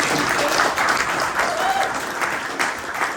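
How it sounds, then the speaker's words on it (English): Audience applause at a Tour Divide 2023 presentation, a steady dense clatter of many hands clapping throughout, fairly close and even, with a few faint voices mixed in. "we should have a round of applause at least for knowing that"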